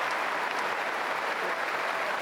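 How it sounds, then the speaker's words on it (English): Steady applause and clapping fill the arena at a German Open men's singles table tennis quarterfinal, a continuous, even wash of hands from the crowd with little else audible. "We've got our team massage therapist there clapping for Dima"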